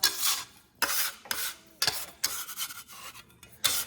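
A kitchen scraper is dragged across a surface to clear off leftover bits. Several loud, close rasping strokes come in bursts with short pauses between them, and no talking.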